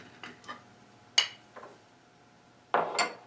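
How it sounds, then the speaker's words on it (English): A spoon scrapes and knocks against a bowl while mixing colored spritz cookie dough, giving a few separate soft clinks and scrapes with quiet pauses between, then a louder scraping burst at the end. "I'm going to start working it in with a spoon"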